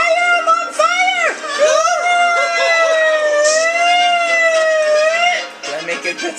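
A person's voice imitates a siren with a loud, close, wavering wail that swoops up and down and then holds a long steady tone before breaking off, heard alone.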